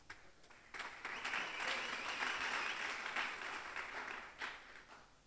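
A church congregation applauding after a call to acclaim the Lord, with a few scattered claps building into sustained, moderately distant applause that swells and then tapers, with light cheering mixed in.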